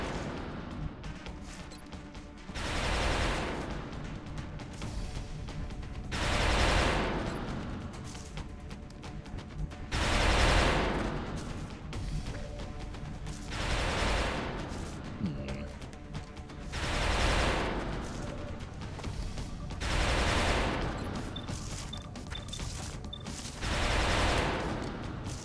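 XCOM: Enemy Unknown overwatch shots crackle in periodic bursts of loud gunfire roughly every few seconds, swelling and fading through a long stretch of game sound with no talk.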